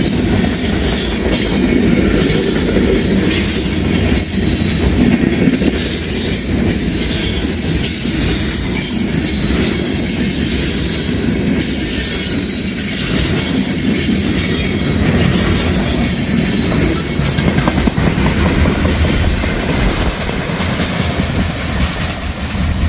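A heavy CSX freight train loaded with huge stones rolls past continuously and loudly, with rumbling wheels, clickety-clack over rail joints and squealing wheels throughout.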